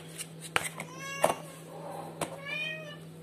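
A house cat meows loudly and insistently indoors, with a couple of drawn-out, wavering meows amid small knocks and faint voices.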